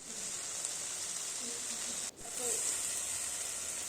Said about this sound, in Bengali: তারপর গোবিন্দভোগ চালটা মশলার মধ্যে দিয়ে ভালো করে নেড়ে নিলাম।